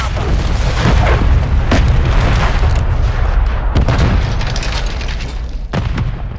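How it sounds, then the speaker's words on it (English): Grenade blasts and heavy combat in Call of Duty, a loud continuous low rumble with several sharp booming bursts spread across the clip and little pause between them. "Throwing grenade."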